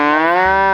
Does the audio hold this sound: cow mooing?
yes